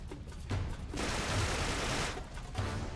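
Bursts of AK rifle fire in the video game Uncharted 3 crackle out as a sustained, loud volley with a shorter burst before and after, close and without talk.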